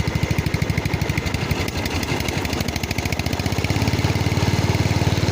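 A 1988 Simplicity 7116H garden tractor engine runs close by with a rapid, steady chugging pulse that firms up and grows slightly louder toward the end.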